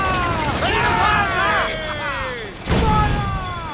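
Ship cannons in Assassin's Creed 4 Black Flag firing on a slaver ship, a heavy boom with a rumbling tail followed by a second blast, mixed under game music and shouting voices.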